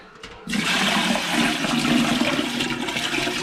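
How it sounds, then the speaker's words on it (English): A gallon of water is dumped from a pot into a home water distiller, a sudden loud rushing splash that continues as a steady heavy pour, close by with no talk. "So I've got 1 gallon of water sitting in this pot here, and we're just gonna dump it in."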